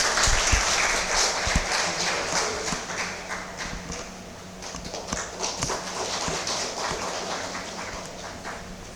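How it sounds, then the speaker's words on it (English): Audience applause for a student named Sai coming forward to collect a certificate at a Kendrapara College ceremony: a sustained, moderately loud wash of clapping across the whole stretch, thinning a little midway, with no talk over it. "A big round of applause for Sai."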